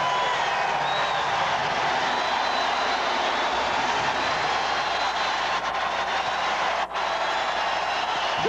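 Crowd at a college basketball game between SIU Salukis and Evansville roaring and cheering after a dunk, a loud sustained wash of noise that holds steady throughout without a break.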